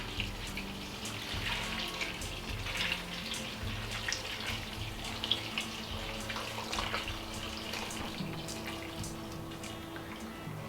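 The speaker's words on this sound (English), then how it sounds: "Now I'm gonna pour the water over the kale." Water pours steadily from a kettle over kale in a container for several seconds, a continuous close gurgling stream with no talking.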